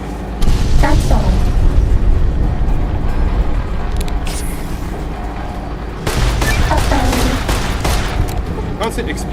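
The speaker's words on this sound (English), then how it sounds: "Constant explosions also don't make this part very easy because it makes it quite hard to kill it." Constant explosions and gunfire in the video game Fallout New Vegas, played with hardcore mods: a dense, loud, continuous barrage of booms and shots that rolls on throughout, with a fresh surge of blasts partway through.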